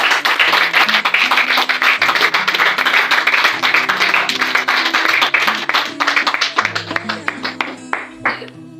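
A church congregation in Douala, Cameroon, claps loudly and steadily throughout, dense rhythmic hand claps with voices cheering and singing underneath, the claps thinning into a few separate slaps near the end.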